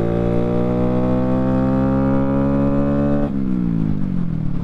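A 2022 Honda Grom motorcycle fitted with a DHM cam accelerates, its engine note climbing steadily for about three seconds before dropping at a gear change and rising again, loud and close.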